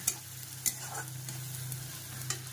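Onion fries in oil in a pan, a soft steady sizzle broken by a few sharp clinks and scrapes of a spoon stirring, close and quiet with no talk.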